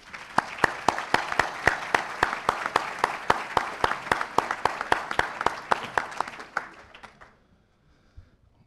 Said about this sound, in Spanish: les pido por favor un aplauso para ustedes mismos por este éxito